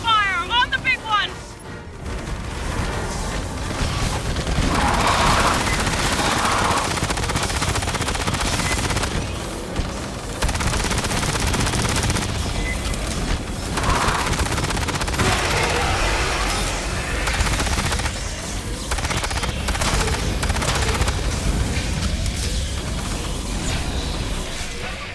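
Sustained automatic gunfire and heavy weapon bursts in the video game Aliens Fireteam Elite, loud and dense over nearly the whole stretch, with crashes and a voice calling out partway through.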